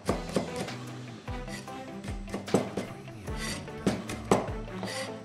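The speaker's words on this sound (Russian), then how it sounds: "Теперь нарезаем лимонграсс." A knife chops a stalk of lemongrass on a board while preparing a chili crab dish, making a quick run of soft, close knocks and scraping cuts at an uneven rhythm.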